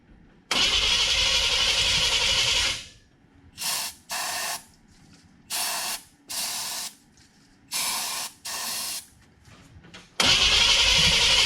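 A dry 1966 Chevrolet C10 small-block V8 with a new fuel pump cranks in several loud, close bursts, first long, then a series of short tries with pauses between them, and ends in another long crank. No voices are heard.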